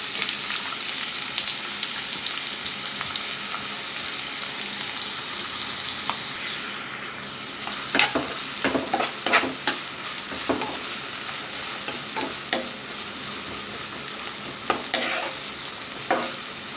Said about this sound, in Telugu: ఆయిల్ హీట్ అయింది ఇప్పుడు దీనిలో ఉల్లిపాయ ముక్కలు పచ్చిమిర్చి ముక్కలు వేస్తుంది